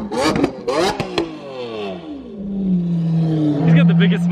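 A car rolls up nearby and its engine revs, rising and settling into a steady drone, near the end of time with a Toyota JZX100 owner; a voice briefly talks over the start.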